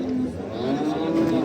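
A calf moos with a long, drawn-out low call at a busy livestock market in Barda, Azerbaijan, set against steady crowd murmur in the background.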